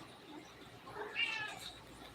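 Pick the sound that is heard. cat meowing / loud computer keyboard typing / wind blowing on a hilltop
cat meowing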